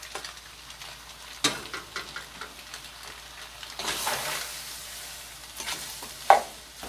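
Bacon and pasta being stirred around a pan on a stove turned down to low, giving soft scraping and a faint sizzle with one sharp clink near the end; no one speaks.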